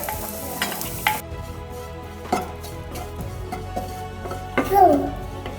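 Crushed coriander and spices, chili powder and garam masala, fry in a pan with a soft sizzle under repeated sharp scrapes of a spoon stirring, with a brief voice near the end.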